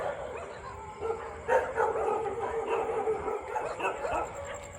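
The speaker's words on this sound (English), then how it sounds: "the dogs are quite excited about people being out here at 3 o'clock in the morning" Several dogs barking, yipping and whimpering excitedly at people on a Bangkok street around 3 a.m., the barks coming in irregular bursts at mid distance over a steady background hum.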